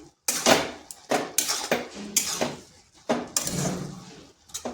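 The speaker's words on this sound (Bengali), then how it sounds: "এটাকে এইভাবে মিনিট 2-3 নেড়ে দিচ্ছি।" A utensil stirs cabbage and egg in a cooking pan: repeated metallic scrapes and clanks come in irregular bursts, close and fairly loud, with short gaps between strokes.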